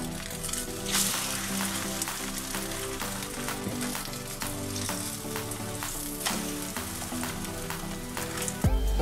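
Thin omelets frying in a little sunflower oil, giving a steady close sizzle and crackle that runs unbroken throughout, with a few faint clinks near the end.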